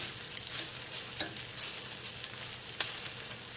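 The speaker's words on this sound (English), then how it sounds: "char, nice little sear on the meat. Whew, okay, that pan's hot." Beef searing in a very hot pan gives a quiet, steady sizzling hiss with a couple of brief sharp scrapes, close and fairly soft.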